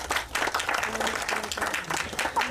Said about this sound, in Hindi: एक बार जोरदार ताली हो जाए आप सभी की तरफ से.